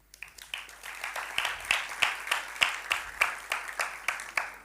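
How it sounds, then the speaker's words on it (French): Audience applause at a live comedy stage show in Abidjan, a crowd of spectators clapping steadily with dense rapid claps, moderately loud and sustained without pause. "Et ça encore, cela s'applaudit."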